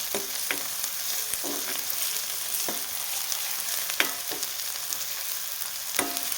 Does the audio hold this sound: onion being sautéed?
yes